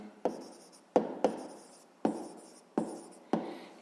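A pen writes on paper while working a sixth-grade maths exercise, giving six distinct scratching strokes, each starting with a sharp tap and trailing off, close and quiet with no voice.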